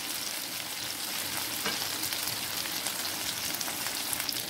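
Chicken garlic sesame, a Chinese dish, frying in butter in a pan, giving a steady, close, dense sizzle and crackle that runs unbroken throughout with no voices.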